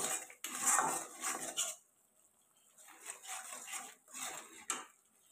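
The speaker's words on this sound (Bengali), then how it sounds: "দিয়ে ভালো করে নাড়াচাড়া করবো।" Chili, turmeric and cumin powders with salt are stirred in a cooking pan for a potato and paneer dish, giving rough scraping bursts that stop briefly midway and then resume with a sharp knock.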